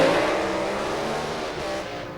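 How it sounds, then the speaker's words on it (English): Drag racing car doing a burnout on the strip at Santa Pod in 1994, a loud, sustained engine roar with rasping exhaust and tyre noise that holds steady and fades slightly over a couple of seconds. "Barry Sheevels with his burnout"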